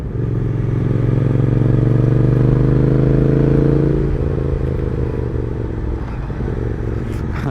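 A Triumph Speed Twin motorcycle rides along with a steady, loud engine drone, its pitch climbing slightly before easing off about halfway through as the engine settles to a lower rumble with wind noise.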